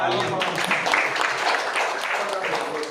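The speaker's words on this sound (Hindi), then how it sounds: "तालियां" Audience applause at a BJP joining event introducing chartered accountants: a dense, steady wash of clapping throughout, with a voice talking over it.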